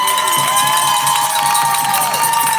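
A large outdoor rally crowd cheers and shouts continuously at steady, loud volume, with children's voices in the mix and no pauses.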